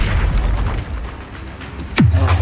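Bombarda spell explosion in the Hogwarts Legacy video game: a sudden deep boom with a falling whoosh near the end, loud and close, following a rumbling stretch of game sound.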